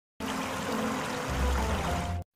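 Cartoon water filling a container for a bath, a continuous pouring rush lasting about two seconds that deepens in pitch partway through as the vessel fills.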